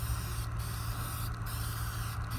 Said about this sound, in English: then I'll just spray back and forth